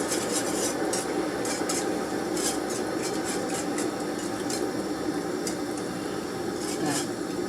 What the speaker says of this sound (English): now I'm mixing in that flour from the centre, it's starting to really thicken up